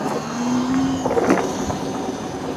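Kupprum Nomad adventure-style electric motorbike with a 4 kW mid-drive motor accelerating in S mode, a steady close whine with a brief rising tone, heard alone with no talk.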